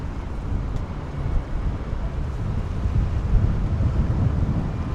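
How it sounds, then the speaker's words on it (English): Gusty wind buffeting outdoors high above a retail and leisure park in north London, a loud, continuous low rumble that surges and dips unevenly throughout, with no voices. "Oh look, the wind, the gust has picked up."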